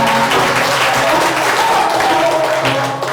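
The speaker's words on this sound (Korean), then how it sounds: "박수 부탁드리겠습니다." An audience at a book concert gives sustained, dense applause, many hands clapping together, loud and close, with faint voices and a tonal sound showing through near the end.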